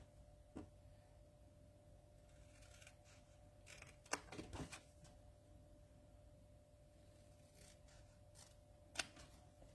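Scissors cut through paper or card to shape a gift box, heard as faint, sparse snips and clicks, with a brief cluster near the middle and a single sharp snip near the end, against a quiet room hum.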